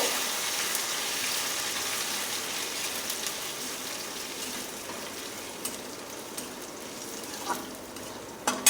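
Washed mung dal frying in a pan for a chal kumro ghonto, a soft, even sizzle with occasional light scrapes and clicks of the spatula growing more frequent toward the end, no talking.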